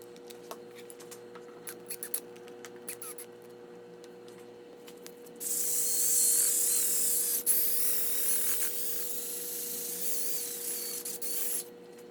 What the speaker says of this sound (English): This is just a clear coat to keep the copper from oxidizing.